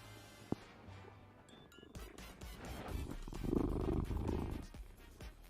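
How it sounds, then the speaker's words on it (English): Kiba, a cat, purring in a low continuous rumble close to the mic, swelling louder in the middle, with scattered clicks and handling bumps from a ceramics workspace. "You hear his purr?"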